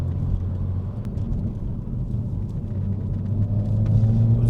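A Renault Megane R.S. 280 drives up a steep incline, heard from inside as a steady, loud low engine rumble with road noise that rises slightly toward the end, with no talking.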